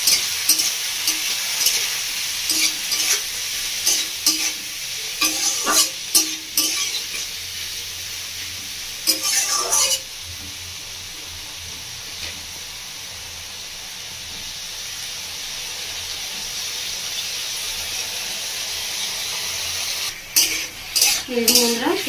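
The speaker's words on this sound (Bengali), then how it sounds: "সবজিটা ভালো করে ভেজে নেব।" Mixed vegetables salted and frying in a pan for a paneer roll sizzle steadily while a spatula scrapes and stirs in bursts, with a long quieter stretch of plain sizzling in between.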